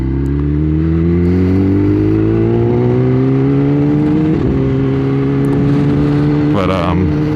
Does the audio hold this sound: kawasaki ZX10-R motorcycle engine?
yes